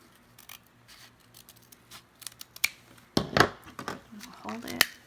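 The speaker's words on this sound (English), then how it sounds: "I'm going to cut up at an angle." Sharp scissor snips trimming the ends of a two-toned double ribbon at an angle, a few crisp cuts and crinkles close by, with light handling noise and some talking.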